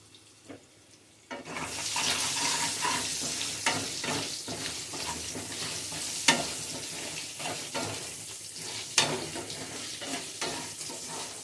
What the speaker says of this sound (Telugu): రెండు నిమిషాలండి వేయించుకోవాలి చక్కగా